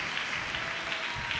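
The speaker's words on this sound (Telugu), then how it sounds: "చప్పట్లు కొడుతూ దేవుని నామాన్ని మహిమపడతాం." Congregation at a church convention in Ongole clapping hands together in steady applause, a dense continuous patter filling the room with no voices over it.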